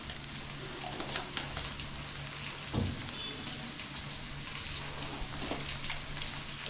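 Onions sauté in oil in a pan for a home-cooked paruppu urundai kuzhambu, giving a soft, continuous sizzle and crackle at moderate volume. An occasional stir or clink of a utensil sounds close by.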